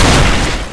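A single loud, close shotgun blast from a video game, a short booming burst that decays quickly with no talk over it.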